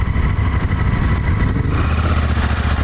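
Adventure motorcycles, including a KTM 790, on Dunlop TrailMax Mission 50/50 tires run at full street pressure, a loud steady engine drone with rumble and wind buffeting, heard near and without talk.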